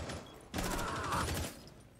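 Gunfire in a competitive video game match, heard as a muffled burst of rapid shots that swells in the middle of the clip and fades, set against a low background rumble with no speech.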